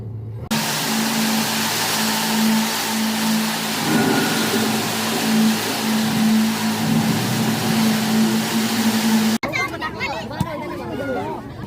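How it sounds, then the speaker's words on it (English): Heavy rain falling outdoors in Maralal, Kenya, a dense steady hiss mixed with vehicle engine hum and faint crowd babble, ending with a sudden cut to a brief different noisy scene. "at some point it started raining heavily"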